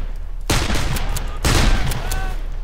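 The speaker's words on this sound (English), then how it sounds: "I don't know, I just shot that extra bullet." Two loud bursts of gunfire from the video game Darkest of Days, each a sharp crack with a lingering rumbling tail, close and heavy, with no speech.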